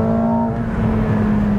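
McLaren 750S Spider engine accelerating hard in sport mode, a loud, close, steady roar with a strong tonal drone, heard alone for a brief burst.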